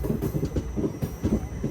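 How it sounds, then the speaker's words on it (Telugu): A train clatters along a track, heard from aboard a moving train on a journey from Hyderabad to Arunachalam, with a steady rumble and rhythmic wheel knocks, close and fairly loud. "అటుపక్క ఏదో ట్రైన్ ఉంది"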